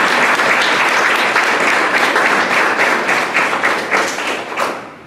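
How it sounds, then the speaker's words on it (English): Audience applause for the panelists at a Women in STEM panel, a dense crowd of many hands clapping loudly and steadily, tapering off toward the end. "let's give a warm round of applause for our amazing panelists."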